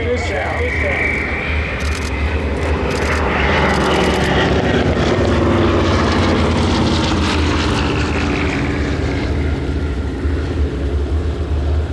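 A WWII-era propeller airplane, Placid Lassie, flies past at an air museum's WWII weekend in Reading, Pennsylvania, its loud droning engine roar swelling and holding throughout, with a faint voice underneath.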